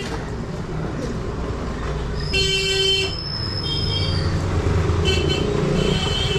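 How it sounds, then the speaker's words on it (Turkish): Busy street traffic in New Delhi, a loud rumble of engines with several sharp horn blasts piling up in the middle and more honks toward the end. "Şu trafikteki kaosa bakar mısınız? Trafik nasıl da kilitlenmiş."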